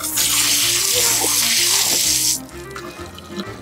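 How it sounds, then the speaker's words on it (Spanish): Water pours steadily from a public drinking fountain in Rome, a loud continuous splashing stream that stops abruptly after a few seconds, leaving quieter street ambience. "Aquí siempre van a haber un chorro, siempre va a estar cayendo agua"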